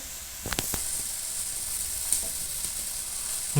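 Steady hissing sizzle of fish frying in a pan on a new stove, with a few sharp clacks near the start and a soft tap later, no talking.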